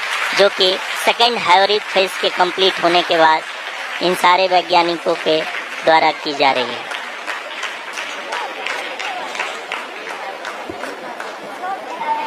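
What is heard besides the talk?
scientists applauding during the Chandrayaan-3 lunar landing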